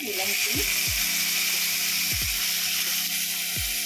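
Chopped tomatoes added to browned onions set off a loud, steady sizzle in the frying pan, with several clinking and scraping utensil sounds against the pan.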